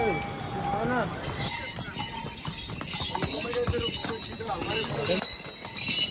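Hooves clop unevenly on a hard mountain path as horses walk the Kedarnath trek, mixed with voices and outdoor bustle, fairly close.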